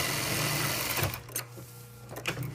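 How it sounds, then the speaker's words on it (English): A sewing machine stitches through layered fabric pieces in a steady, close mechanical whir that pauses and starts again partway through, with no voices. "If you come to a spot that you see is needing to be stitched, you can just sew over there and fill in that spot."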